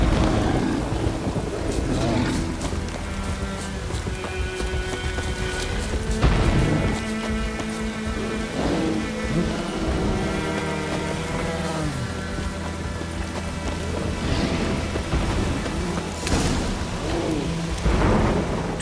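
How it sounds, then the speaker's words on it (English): Stormy weather in The Witcher 3, steady rain and rumbling thunder under a musical score, with a voice speaking over it at times. "A storm, damn it."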